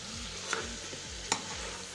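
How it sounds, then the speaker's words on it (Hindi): Tinda gourds fry in hot oil in a pot that was just used for chicken, with a steady close sizzle and soft scraping strokes as they are stirred. "अब चिकन के बाद टिंडियों को भी हम फ्राई करेंगे इसी पतीले में जिसमें हमने चिकन को फ्राई किया है"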